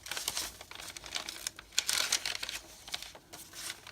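Vintage paper being folded for a handmade junk journal, close crisp crinkles and rustling in uneven bursts, with a few sharper crackles in the middle and no voices.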